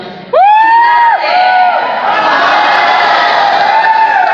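A large crowd lets out a loud, sustained shout that rises sharply and holds, a mass of voices roaring together close by.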